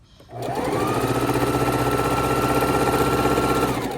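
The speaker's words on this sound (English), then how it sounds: "I'm chain stitching these 4 patches block after block after block." A sewing machine chain stitches quilt patches block after block, whirring up after a brief pause into a steady, close, unbroken motor hum with a rapid needle rhythm, with no talking.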